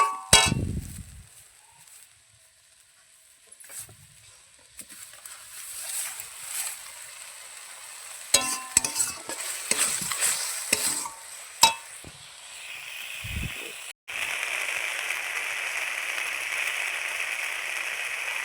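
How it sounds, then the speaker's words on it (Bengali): Masala gravy for a meat curry fries in oil in a pan, with scattered spoon clinks and scrapes while it is stirred, then a steady, close sizzle that continues to the end. "গ্রেভিটাকে ভালো করে কষিয়ে নেব মশলাটা।"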